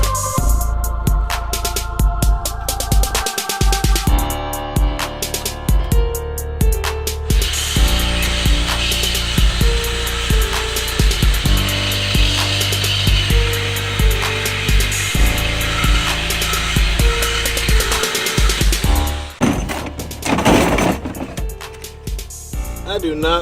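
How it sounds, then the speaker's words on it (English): A Sawzall reciprocating saw cuts out the muffler on a Honda Civic, a loud, close, continuous buzzing rasp with shifting pitch, brief pauses and restarts as the blade works through the metal exhaust. "I do not like these Sawzall blades right here."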